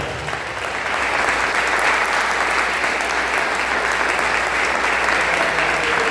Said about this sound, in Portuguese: Vamos aplaudir Jesus muito forte.